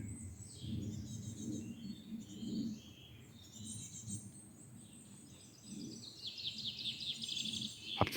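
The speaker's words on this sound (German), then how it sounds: "In einem Baum über mir ist ein Nest mit jungen Meisen, die um Futter betteln." Faint, high chirping of young tits begging for food from a nest in a tree nearby, calling repeatedly over a low rumble of background noise.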